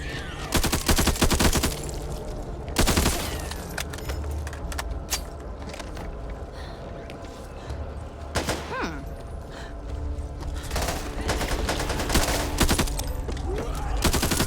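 Assault rifle fire in a zombie video game: repeated loud bursts of automatic shots with gaps between them, over a busy game soundscape of effects and background music.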